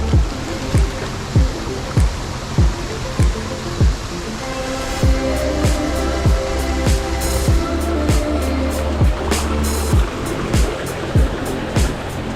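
A river being crossed on a forest trail near a pine-forest path on the way to Malino waterfall, water rushing steadily close by, with repeated low thumps and knocks cutting through the flow.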